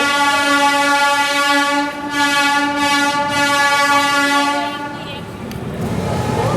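The Hazur Sahib Nanded–Hadapsar Express pulls out of Nanded with a loud, sustained horn blast held for several seconds, then a rumbling engine surge as the train starts rolling.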